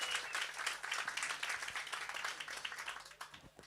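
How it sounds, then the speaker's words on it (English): A workshop audience in KwaMashu breaks into steady applause, with many hands clapping in a dense, continuous patter at moderate distance that tapers slightly at the end. "Please can we give them a round of applause?"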